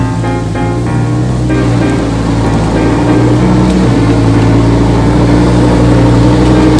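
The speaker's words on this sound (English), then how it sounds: "Lamborghini coming. Lamborghini coming." A Lamborghini engine roars close by with a steady, droning rumble that builds slightly in intensity as the sports car approaches.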